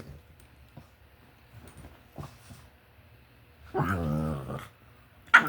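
Dogs playfully fighting snarl and growl intermittently at a distance, with short yips and a louder sustained growling whine near the end, no talking.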